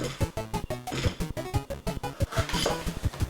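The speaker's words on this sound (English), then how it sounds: "keep doing that until all of your turnip is sliced" A knife slicing a turnip taps out rapid, regular strikes against a cutting surface, each cut a crisp close knock in a steady chopping rhythm, heard alone.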